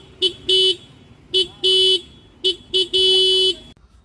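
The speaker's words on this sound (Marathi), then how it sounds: "आणि हॉर्न ऐकूया कसा येतो." Horn of a TVS Ntorq 125 Race Edition scooter, sounded six times in short and longer beeps of a steady tone, loud and close with nothing else heard.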